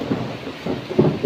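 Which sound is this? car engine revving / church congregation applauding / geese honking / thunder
thunder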